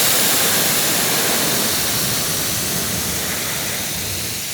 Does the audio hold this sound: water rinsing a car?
yes